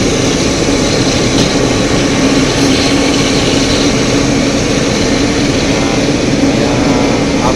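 An Emirates Boeing 777-300ER taxis away toward the main runway after pushback, a steady loud jet engine drone with broadband rumble that holds evenly throughout, no voices.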